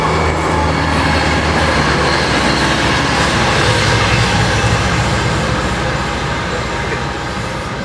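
A train rumbles steadily past at close range, loud and continuous, with a dense rolling roar and faint wheel clatter throughout, no voices.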